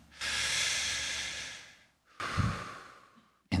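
People take two deep breaths, a long airy inhale followed by a shorter second one, close and clear in a quiet room during a worship service.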